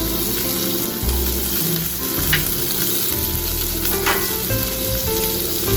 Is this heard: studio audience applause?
no